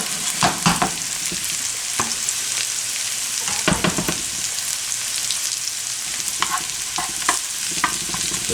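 Asparagus frying in a hot pan ahead of Swiss chard and garlic, a steady close sizzle with bursts of stirring and utensil scrapes rising and falling throughout.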